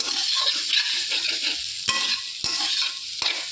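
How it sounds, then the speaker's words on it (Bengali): Young jackfruit cooks with spices in a hot pan, sizzling steadily while a spatula stirs it, with a few sharp knocks and scrapes against the pan and no voices. "এবার ভালো করে নেড়ে এঁচোড়টাকে মশলার সঙ্গে বেশ ভালো করে কষিয়ে নিতে হবে।"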